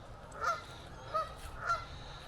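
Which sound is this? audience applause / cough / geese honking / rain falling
geese honking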